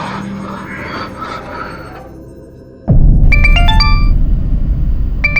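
A phone ringtone chimes in quick bright electronic notes, kicking in suddenly over a loud, dense background after a quieter stretch.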